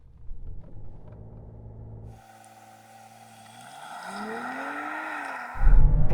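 A heavy BMW 7 Series M performance saloon of over 2.5 tonnes launching hard from 0 to 60 mph, its engine note rising and sweeping upward through the gears as it accelerates, loud and close, alone with no talk.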